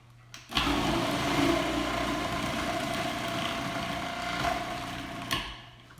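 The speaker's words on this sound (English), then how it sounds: "that's some fast grating, y'all. It sure beats having to grate anything by hand. Do love my food processor" A food processor grates onion and cabbage for coleslaw: a steady, close motor whir with a gritty shredding texture that starts abruptly, holds evenly for about five seconds, then cuts off.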